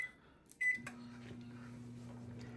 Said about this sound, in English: I've got a strong microwave, so I'm gonna do it for 20.